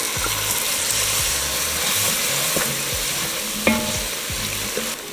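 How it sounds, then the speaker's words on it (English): Sherry wine hits a hot pan while deglazing for French onion beef short rib soup, giving a loud steady sizzle and hiss with scraping stirs and a few sharp clinks throughout. "I'm going to use sherry wine to deglaze"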